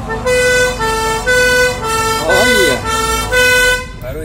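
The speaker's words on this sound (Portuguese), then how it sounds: "Ó, vou ligar a sireninha pra você escutar." A fire truck siren blares up close in loud repeated wailing bursts, with a short warbling sweep midway before it cuts off.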